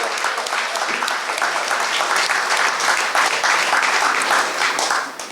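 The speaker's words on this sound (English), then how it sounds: "Let's give him another round of applause for his great singing." Audience at a brewery music night gives a singer a full round of applause, dense crowd clapping that stays loud and steady throughout before tapering slightly at the end, with no talk over it.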